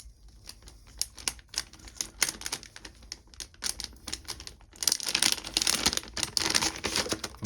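The plastic tear strip of a package holding an HDMI to micro HDMI cable is torn open: rapid, close crinkling and ripping that runs throughout and swells into a louder, denser tearing rush near the end, with no talk.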